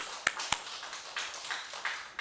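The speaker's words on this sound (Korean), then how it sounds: "자, 하나님께 영광의 박수 돌리겠습니다." A church congregation claps during a prayer service, opening with a couple of sharp, distinct claps that give way to softer, scattered clapping from the room.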